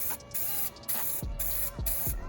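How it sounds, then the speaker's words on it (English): Spray paint hissing from an aerosol can onto a second-generation Scion tC, several close bursts of spraying separated by brief gaps, accompanied by rattling and clicking handling noises. "It's a little difficult because it sprays in such a wide pattern that it's hard to get that first coat on"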